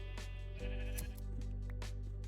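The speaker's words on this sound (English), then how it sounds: "Hello sheep, give me your wool, thank you very much." Bleating of sheep in the video game Minecraft, a few short bleats over a constant low hum and background game tones, with no talk.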